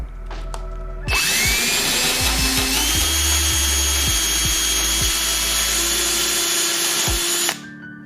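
A power drill runs continuously for several seconds, loud and close, with a whining motor and repeated low knocks as the bit grinds out aluminum rivets on a Sonex aircraft kit.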